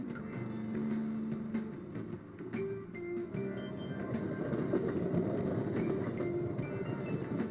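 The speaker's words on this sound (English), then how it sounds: "Oh, train's here." A train pulls into a station in Persona 5 Royal, rumbling and clattering steadily with rising wheel tones and a low mechanical drone, fairly quiet and continuous with no voices.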